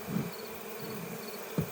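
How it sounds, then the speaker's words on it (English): Honey bees drone in a continuous close buzz at the entrance of a hive box as they are smoked out of a swarm trap, steady with slight swells, no talking. "She's smoking in the entrance on this side to encourage the bees to leave the box."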